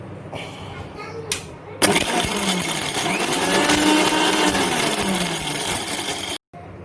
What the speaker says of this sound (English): So we've put the spices into the grinder and we'll grind it.